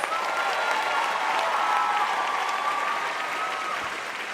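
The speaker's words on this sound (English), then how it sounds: "I think they all deserve one more round of applause" A theatre audience at a Broadway San Diego awards show gives performers a sustained round of applause, dense and steady clapping filling the hall from start to finish with no voices on top.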